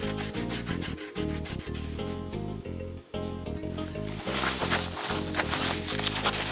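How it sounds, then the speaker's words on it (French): A sanding block is rubbed back and forth over a surface to prepare it for powder in an enamel-effect finish. The scraping runs steadily under loud background music. "j'utilise mon bloc à poncer et je frotte"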